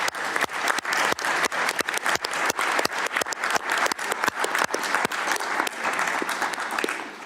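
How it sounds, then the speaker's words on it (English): A room of delegates at a WHO intergovernmental working group meeting breaks into sustained applause, many hands clapping in a dense, steady patter with sharp individual claps standing out throughout. "I also invite a round of applause to the Secretary."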